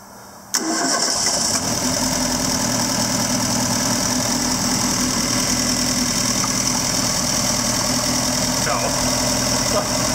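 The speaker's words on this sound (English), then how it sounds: "Rev it, Bill." A Mk1 Ford Fiesta XR2 converted to fuel injection cranks and fires after a short moment, then runs loud and steady close by for the rest of the clip.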